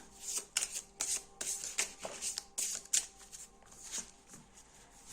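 Tarot cards are shuffled close up for a three-card reading, a quiet series of brisk papery riffles and flutters repeating in quick bursts.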